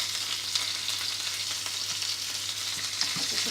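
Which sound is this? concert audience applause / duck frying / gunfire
duck frying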